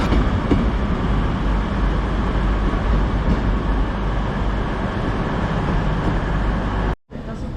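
A late-running TransPennine Express train rumbles steadily through Manchester Piccadilly station, a dense, continuous rolling noise with a brief dropout near the end, and someone speaking over it.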